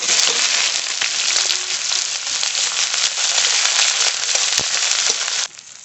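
Whole cumin, bay leaf, dried chili and chopped onion frying in hot oil, a loud, dense, continuous sizzle and crackle close up that cuts off abruptly near the end.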